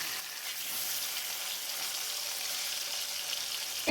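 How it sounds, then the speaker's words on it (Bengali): Fish pieces coated in turmeric frying in hot mustard oil, a steady close sizzle and crackle throughout with no talking. "এবার মাছগুলোকে ভেজে নেব"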